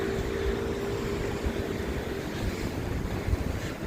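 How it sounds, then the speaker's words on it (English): Strong, cold wind on a Tokyo walk from Skytree to Asakusa, a steady roaring rush buffeting the microphone throughout, with no voices. "The wind is really strong."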